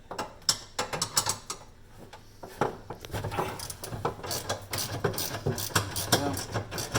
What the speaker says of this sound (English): here's where you're going to need your 5/8 socket on a ratchet